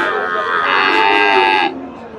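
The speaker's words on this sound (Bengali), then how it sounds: "চমৎকার একটা ষাঁড়।" At a cattle market, a Friesian bull lets out one long, loud, close moo that lasts about a second and a half and then cuts off into the quieter background noise of the market.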